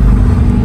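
A Lamborghini Huracan Tecnica, a rear-wheel-drive car, accelerating hard with a loud, dense engine roar that stays sustained and close for the whole stretch.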